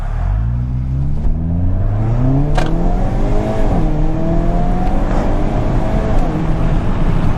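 A 2022 Hyundai Kona N sprints from 0 to 60 in drive, its engine note climbing steadily through several upshifts, each gear's rising tone breaking off and restarting lower, loud and continuous throughout with no talking.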